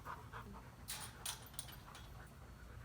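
A stray dog pants softly in quick, shallow breaths close by, a faint rhythmic huffing over a low steady outdoor hum.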